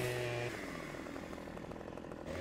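A chainsaw cutting wood in the Farming Simulator 17 forestry game revs with a high whine, settles into a steady buzzing cut, then rises again at the end, heard alone at moderate level.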